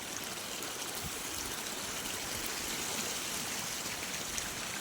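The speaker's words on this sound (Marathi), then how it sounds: "नवीन वळीत पाणी लावलंय आपण आता." Irrigation water runs steadily into a furrow of a sugarcane field, a continuous broadband rushing and trickling with no break, fairly close and alone without any voices.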